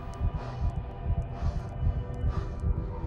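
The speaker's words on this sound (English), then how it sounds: "I hear you breathing. I hear your heartbeat." Heartbeat in the Call of Cthulhu video game: a low, steady throbbing pulse repeating roughly every half second, soft and continuous with no voices.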